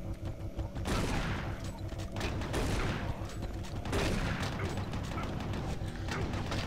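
Enemy gunfire in Doom 3 rattles continuously, with heavy bursts and booming impacts swelling around one, two-and-a-half and four seconds over a dense, loud game din.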